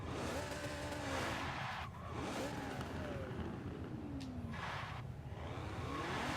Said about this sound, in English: I can still wheel spin and launch from fourth gear